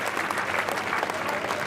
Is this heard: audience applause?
yes